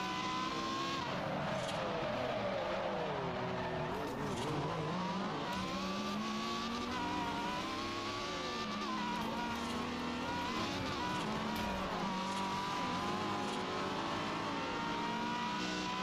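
Race cars in a Forza Horizon video game race roar continuously with shifting engine pitch as they accelerate and rev, steady and loud throughout with no speech.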